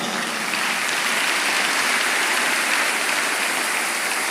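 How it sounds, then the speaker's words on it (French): A church congregation applauding during a service, with dense, steady clapping that fills the space evenly at a constant loudness from start to finish. "Eh oui, acclamons les avocats."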